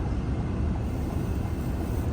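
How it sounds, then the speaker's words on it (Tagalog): A steady, broad roar of an airplane passing overhead somewhere in Calgary, fairly loud and unbroken for its whole length, with no voices over it. "Meron na namang eroplano."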